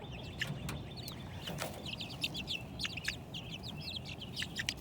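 A garden flock of brown and white chickens clucks and chirps softly and continuously, several birds calling in quick overlapping bursts against a faint outdoor background.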